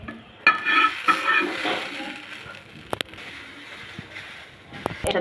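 Chopped onion frying in a pan after garlic and green chilies, a soft sizzle under stirring scrapes and a few sharp utensil clacks, with a voice speaking now and then.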